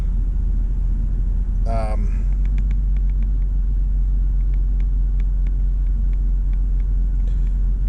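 A car's engine idles just after starting, a drive-by-wire car left sitting for several months that first ran rough; steady low rumble continues throughout with brief faint ticks and a short background noise near the start.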